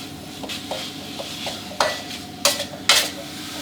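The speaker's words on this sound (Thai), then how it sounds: "ใส่ลงไปได้เลย ผัดคลุกเคล้ากับสามเกลือให้เข้ากันดีเลยครับ" Minced pork stir-fried with a garlic, coriander root and pepper paste: a soft sizzle under repeated scraping and clinking of a spatula against the pan, with a few sharper metallic knocks.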